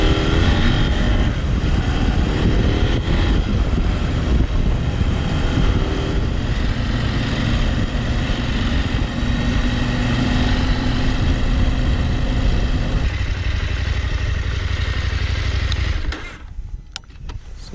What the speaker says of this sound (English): Something is rattling like crazy.